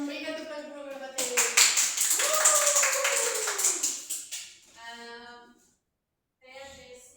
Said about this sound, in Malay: Berikan tepuk tangan kepada Fatih